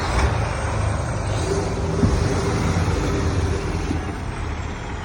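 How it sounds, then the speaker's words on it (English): A dump truck on a town street, its heavy engine rumbling and roaring loudly and steadily throughout as it goes by up close, with broadband road noise and no other clear sounds. "Got a dump truck, I apologize."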